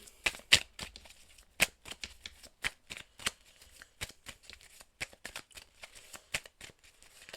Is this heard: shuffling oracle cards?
yes